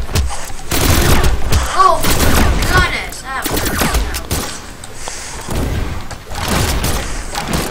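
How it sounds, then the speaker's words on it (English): Rapid gunfire in the brawler game Brawlhalla, a fast run of sharp shots in quick bursts, loud and close, with thuds and other game effects mixed in and a voice talking over parts of it. "Look how fast I can shoot my gun."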